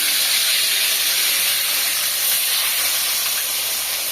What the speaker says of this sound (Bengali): হ্যাঁ তেল গরম হয়ে গেছে, মাছ দিয়ে দিই।